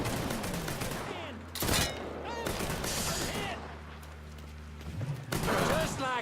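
Gunfire in the crime action game Mafia 3, with several sharp bursts of shots at irregular intervals against a low hum, while voices shout in between.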